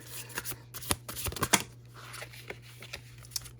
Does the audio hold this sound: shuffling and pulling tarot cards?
yes